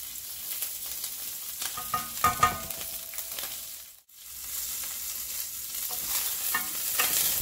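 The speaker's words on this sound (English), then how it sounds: "Add your pepper pieces in an even layer and let them cook for 2 to 3 minutes without stirring." Pepper pieces sizzle in hot olive oil in a pan, a steady close frying hiss with a few scraping clatters early on and a brief dip in the sound partway through.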